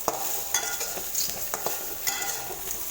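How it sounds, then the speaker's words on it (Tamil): Kozhukattai rice-flour dumplings being stirred with salt in a pan, a steady soft scraping and stirring with light sizzle and occasional utensil taps, close and alone without talk. "கொழுக்கட்டை சேர்த்து நான் நல்லா மிக்ஸ் பண்ணிட்டேன்."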